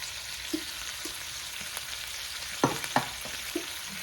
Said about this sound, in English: Put them in there and let that cook for a while